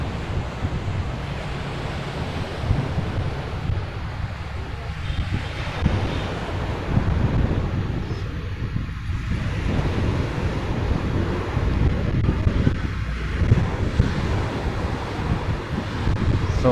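Strong wind buffets the microphone over a steady wash of fairly strong waves breaking along the shore of Manila Bay, loud and continuous, with no voices.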